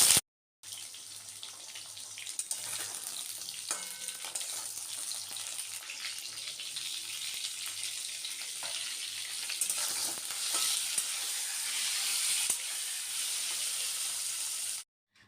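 Pointed gourd (potol) fries in oil with cumin, cinnamon, cardamom, cloves, dried chili and bay leaf, making a soft, steady sizzle that runs on with faint stirring clicks.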